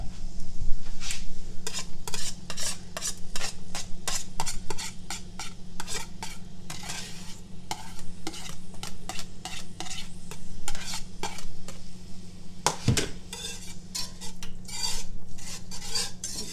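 Peppers and onions sizzle in a tablespoon of olive oil while a utensil stirs and scrapes the pan in repeated sharp clinks and strokes, close and loud over a steady frying hiss.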